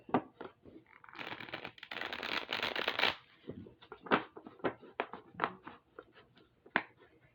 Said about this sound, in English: just do a couple more shuffles to get everyone's energy in the deck as well